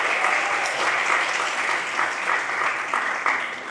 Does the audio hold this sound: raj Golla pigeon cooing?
no